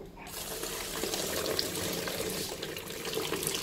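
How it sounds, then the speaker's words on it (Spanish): Hot water is poured into a basin for a homemade foot bath, making a continuous, close splashing gush with no talk. "Y lo que vamos a hacer ahora es echar agua caliente"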